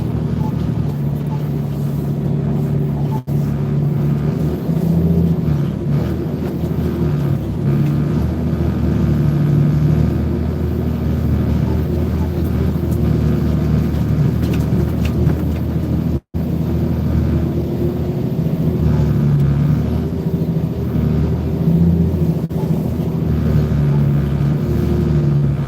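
A car rolling into a housing development, heard from inside as a constant low engine and road hum with a brief dropout partway through, steady and close for the whole stretch.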